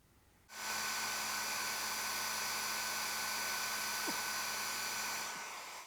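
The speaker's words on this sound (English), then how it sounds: "This is a hair dryer." A hair dryer switches on and blows with a steady, loud whooshing roar and a constant motor whine, running for several seconds before easing off slightly.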